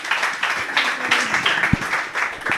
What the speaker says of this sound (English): So please, a round of applause for Melissa Kirtkin, everybody.